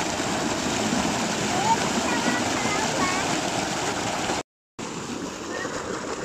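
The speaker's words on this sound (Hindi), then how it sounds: "ताज़ा ताज़ा पानी भर रहा है ये प्रेशर से।" Pressurized fresh water gushes steadily into a can outdoors, a loud continuous rushing hiss that runs unbroken apart from one brief cut near the end.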